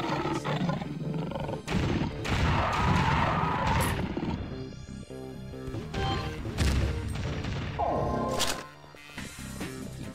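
Grenade blasts and gunfire from the Alien Shooter video game, heavy crashing booms and roaring bursts, packed densely together with a short lull near the end.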